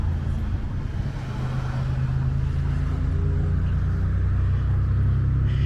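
A Ford Sport pickup rolls by on a dark Kingsport, Tennessee road, heard as a loud, steady low engine and tire rumble close by, with no speech.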